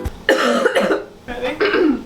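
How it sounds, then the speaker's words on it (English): A person coughs twice in quick succession, close and loud, each cough a harsh burst with a brief gap between them. "And don't cough, ever."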